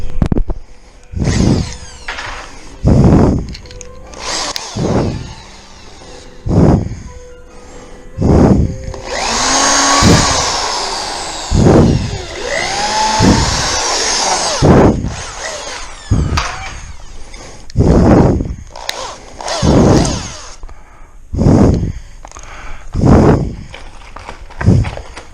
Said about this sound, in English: Run a couple pilot holes.